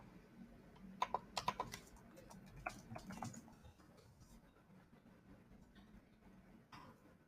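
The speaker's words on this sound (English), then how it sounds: "we're going to type in this person's name here" Someone types on a computer keyboard in a short burst of soft, close key clicks, then a few scattered taps fade into quiet room tone.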